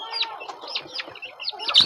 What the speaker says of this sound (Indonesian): Ini adalah ayam KUB.